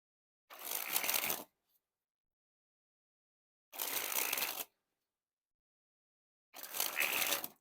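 A deck of playing cards being sprung from hand to hand in three separate bursts, each a crisp fluttering riffle of about a second, with silence between them.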